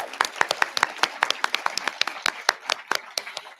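Audience applause for faculty at a 2022 college graduation ceremony: dense, steady hand clapping from a crowd with sharp individual claps, sustained throughout, close and fairly loud.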